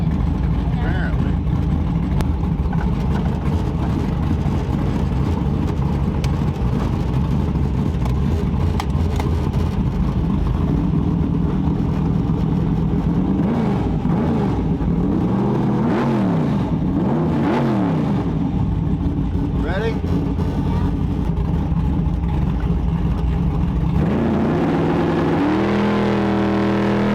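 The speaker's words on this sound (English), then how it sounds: "We're out cruising around in the Corvette street car on Friday night, yo." A Corvette street car drives at night, its engine droning steadily and loudly throughout with occasional revving swells, and people talk over the continuous engine noise inside the car.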